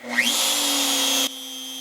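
X-Carve CNC machine carving wood, its spindle rising to a steady high whine that holds for about a second, then drops to a quieter hum.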